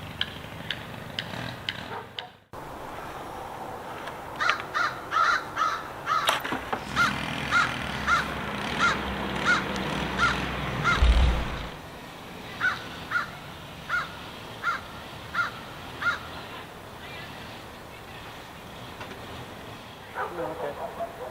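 Crows caw repeatedly outdoors beside a park, a steady series of sharp calls over background noise, with a loud rumbling passage midway that sounds like a passing train or vehicle.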